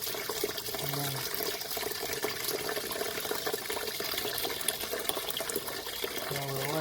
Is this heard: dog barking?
no